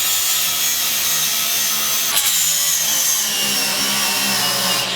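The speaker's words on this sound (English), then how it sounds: "take the grinder, grind everything down to bare metal in those spots I marked" A grinder takes metal down to bare metal while building a large powder coating oven, giving a loud, steady high-pitched grinding whine that runs continuously for the whole stretch with a brief bump near the middle.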